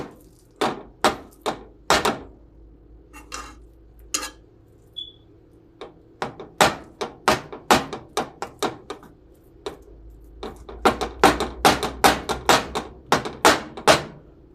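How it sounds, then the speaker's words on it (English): Fork scraping and tapping against a pan while chorizo is spread out, producing a series of sharp metallic clicks in irregular bursts, close and fairly loud. "Got our chorizo. Gonna spread it out with the fork."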